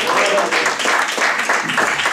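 A church congregation gives a loud burst of applause to the Lord during a Spanish-language sermon, with many hands clapping in a dense, steady wash, briefly carried along with the preacher's voice.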